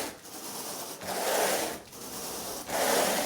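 A carpet rake drags across freshly cleaned carpet in three long, steady bristly strokes with brief pauses between, close and fairly quiet, with no talking.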